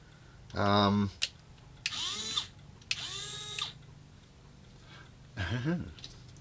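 An RC crawler's dig servo, part of a DIY servo winch setup, whines in four separate bursts, each a rising or falling motor tone, clear and close with quiet gaps between.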